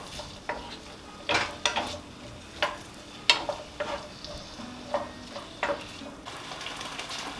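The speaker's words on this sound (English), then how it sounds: "I'm just going to cook these on kind of a low heat until they are tender and caramelized" Onions softening and caramelizing in a pan over low heat, with a soft steady sizzle broken by repeated scraping stirs of a utensil against the pan, close and moderately quiet, no talking.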